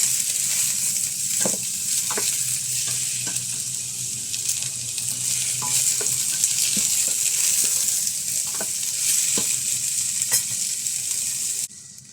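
Food sizzles in a frying pan while being stirred for an Arabic-style yellow rice dish with chicken and vegetables: a constant hiss of frying punctuated by repeated scraping strokes of a utensil against the pan.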